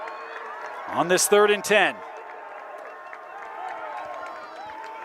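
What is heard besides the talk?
students cheering at a football game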